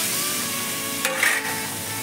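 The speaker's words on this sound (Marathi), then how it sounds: "किमा चांगला परतून घ्यायचा तेलातच" Chicken mince for momos sizzles in hot oil in a pan with garlic and a gravy base, a steady close crackle, with a brief scrape of stirring partway through.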